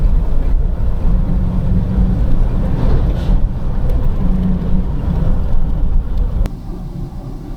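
A 1993 Ford Taurus with a low-power fault drives at full throttle, producing a loud, continuous low engine roar mixed with wind and road noise, which eases slightly near the end.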